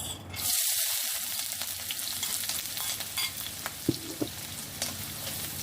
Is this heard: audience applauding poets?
no